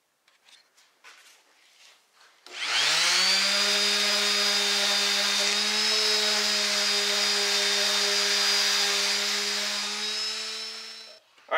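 A power sander runs steadily on wooden pieces for a small mail shelf, starting abruptly after a few faint knocks and holding a loud, even whine for about nine seconds before cutting off.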